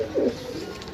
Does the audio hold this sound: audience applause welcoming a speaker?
no